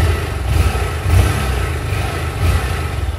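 A 2024 Honda Titan motorcycle with its original stock exhaust runs steadily at close range, giving a low, even engine rumble with slight pulsing and no speech.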